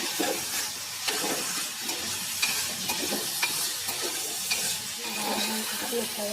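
Tomatoes and eggplant frying in a pan for a vankaya pachadi, a loud steady sizzle running throughout with scattered spatula scrapes and clicks against the pan, close up.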